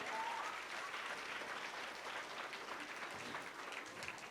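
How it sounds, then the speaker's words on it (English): Applause from a summer event audience, a sustained, even patter of many hands clapping at a distance and fairly faint, with no voices on top. "Can I get a round of applause so I can at least hear that everybody can agree to that?"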